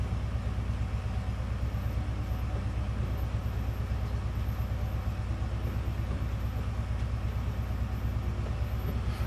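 A Class 70 diesel locomotive in Train Simulator 2018 rumbles steadily on the North London Line, with a continuous low engine drone and faint rhythmic wheel clatter throughout.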